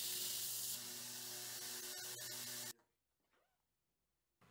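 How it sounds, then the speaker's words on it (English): An angle grinder cuts chamfers into a flat steel piece to prepare it for welding, a loud steady whining grind that runs for under three seconds, then stops abruptly, leaving near silence with faint clicks. "We're grinding in some chamfers here so that we can get a good weld when we weld it together."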